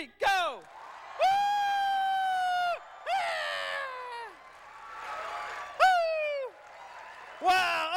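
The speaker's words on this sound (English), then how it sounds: "I want you to applaud, clap, cheer" An audience claps, cheers and whoops together on a countdown cue, loud bursts of shouting and high-pitched woos over a steady wash of clapping, surging and dropping several times.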